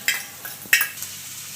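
Chopped tomato drops into softened onions in a hot pan for a fenugreek gojju, giving a few short bursts of sizzle and clatter over a quiet kitchen background.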